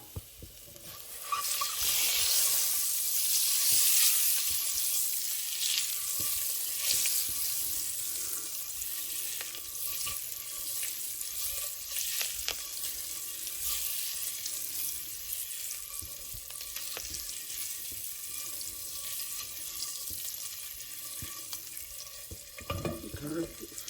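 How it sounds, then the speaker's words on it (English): Eggs coated in red chili and salt frying in a pan for an egg curry, a steady close sizzle with stirring scrapes and clatter throughout. "get fried a little bit so that the salt and chili get into the egg"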